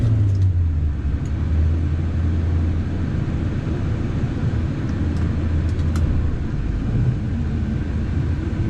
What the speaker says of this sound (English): today we're going to go for a drive in my 1969 Chevelle SS 396